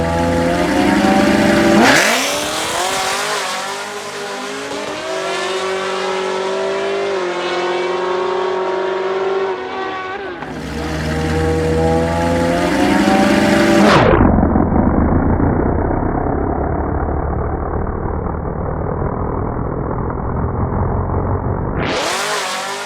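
A supercharged LT1 Camaro engine revs hard during a street race, loud and close, with rising and falling pitch sweeps, a brief drop to idle rumble midway, then another sharp surge at the end.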